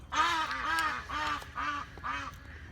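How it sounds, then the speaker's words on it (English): Ducks quack in a run of five nasal, rasping calls at an even pace, fairly close and clear, with no voices over them. "Ducks."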